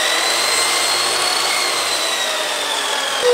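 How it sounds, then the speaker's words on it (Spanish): A power drill whirs steadily as it beats dough in a home kitchen, a loud continuous motor drone with no pauses and no talking. "Un taladro para batir la masa."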